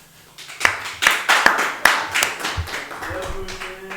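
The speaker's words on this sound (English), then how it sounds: "We can clap for Brewington." A small audience at a chess club championship claps in loose, uneven bursts, a handful of sharp hand claps standing out, with faint voices murmuring underneath.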